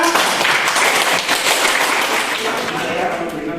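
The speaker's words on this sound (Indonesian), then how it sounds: "tepuk tangan anak-anak" Children clapping in a classroom after a group presentation, a dense burst of applause that gradually thins out, with voices talking over it.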